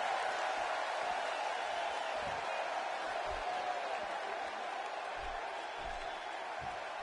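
Arena crowd noise in a WWE 2016 wrestling video game, a steady broad roar of cheering and applause running the whole time, with a commentator's voice faintly underneath.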